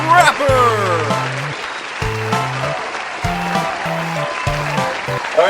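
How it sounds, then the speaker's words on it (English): Studio audience applause fills the room as a steady, fairly loud wash of clapping, while a voice sings or talks over it in short, stepped phrases. "please give a big round of applause for your host"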